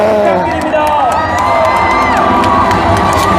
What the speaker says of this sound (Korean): 다시 한번 신임 당대표님께 뜨거운 박수 부탁드립니다